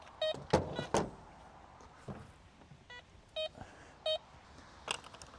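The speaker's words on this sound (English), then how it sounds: "it did beep when it saw the metal" A metal detector sweeping over snow at a ski resort gives short electronic beeps at a ski pole, four separate tones spaced out among crunching snow and handling knocks.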